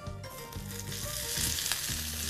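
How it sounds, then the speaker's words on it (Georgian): Pork and vegetable skewers on bamboo sticks sizzle on a hot oiled grill, a steady close crackling fry that swells slightly, with no talking. "შეგვიძლია უკვე დავიწყოთ გრილზე შეწვა"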